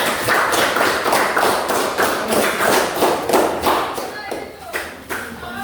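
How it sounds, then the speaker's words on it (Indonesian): Classroom audience applauding group 3, a sustained burst of clapping that swells with rhythmic surges and tapers off near the end, loud and close, with little talk. "Mari kita memberikan aplaus kepada kelompok 3"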